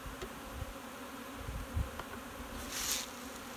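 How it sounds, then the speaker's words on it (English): A steady, faint hum of many honeybees buzzing in a full hive box, with a single insect passing closer near the end. "pretty much a full box of bees"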